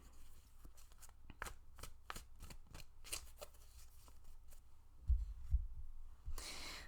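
Playing cards shuffled for a tarot reading: a quick series of crisp riffling snaps and slaps, closely miked and fairly quiet, ending in a brief papery burst.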